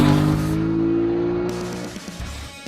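An Aprilia RS 660 twin-cylinder sport motorcycle engine holds a strong, steady revving tone up close, then the note drops away and fades toward idle with some rougher pulses.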